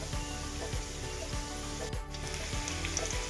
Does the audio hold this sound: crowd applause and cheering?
no